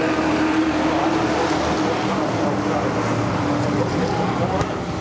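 NASCAR Whelen Modified race cars run side by side into a turn at Seekonk Speedway, a dense, steady engine roar filling the track with no breaks, under a race commentator's voice.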